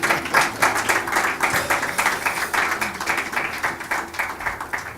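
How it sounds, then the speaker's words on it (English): A live audience at a Role Model Africa talk breaks into loud, dense applause, with many hands clapping quickly and steadily for about five seconds and no one speaking. "it's okay to applaud when you feel inspired. Or when I give a cue"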